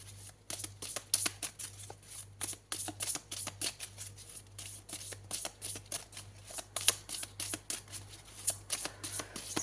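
Oracle cards get shuffled by hand at close range, a quiet run of rapid papery riffles and slaps in uneven bursts, soft and alone over a faint low hum.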